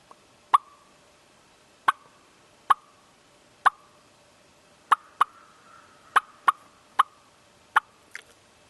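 Sharp, percussive clucks of a wild turkey imitated on a hand-held turkey call, about ten single notes spaced roughly a second apart, fairly loud and close with quiet in between.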